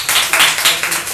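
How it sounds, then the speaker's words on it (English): An audience claps for a student in a classroom, with a short burst of quick, bright, evenly spaced claps close by. "Clapping for Akash."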